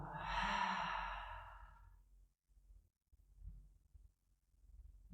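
A deep exhale pushed out through the mouth during a yoga breathing exercise, loud and breathy for about two seconds, then fading into quiet low rustling.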